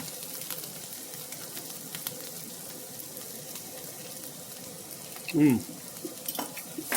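Caramelized onions sizzle softly in a pan as a fork stirs them, with a steady low frying hiss and one brief louder scrape near the end, close and quiet.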